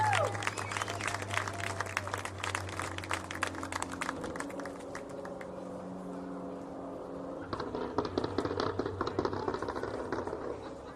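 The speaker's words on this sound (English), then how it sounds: "One more round of applause for our 2025 Sentinel Flag Football Seniors" Applause for the 2025 Seton Catholic Sentinels flag football seniors at Michael Eubank Stadium: scattered claps from a stadium crowd over a steady low hum, thinning midway and then picking up again near the end.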